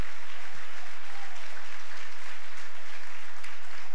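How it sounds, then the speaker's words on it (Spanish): A church congregation at a thanksgiving service claps together in dense, sustained applause that fills the room evenly, with a few louder low thumps near the microphone. "dele fuertes palmas al Señor"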